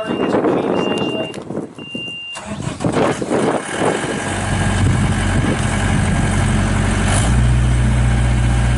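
JLG 600AJ articulating telescopic boom lift, a 2012 4x4 machine, cold starting: clatter and a cranking engine, then the diesel catches and settles into a steady, loud idle close by, rising slightly near the end, with no speech.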